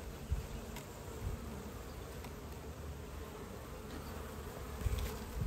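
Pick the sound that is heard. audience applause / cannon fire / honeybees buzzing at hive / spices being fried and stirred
honeybees buzzing at hive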